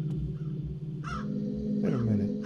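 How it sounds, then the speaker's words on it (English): Crows caw in the horror-themed game Dreams (The Conjuring), perched on top of parked cars; a couple of harsh, close calls sound over a low, droning ambient background. "There's like crows everywhere. On top of the cars."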